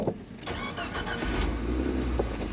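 A Jeep with a non-working clutch cranks and catches, its engine firing up and settling into a rough, close, loud idle with no one talking.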